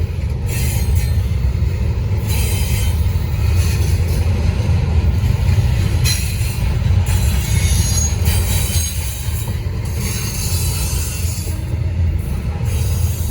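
A Norfolk Southern freight train rolls past close by, the end of the train approaching: a loud, continuous rumble of wagons with repeated metallic wheel squeals and clicking over rail joints, no voices.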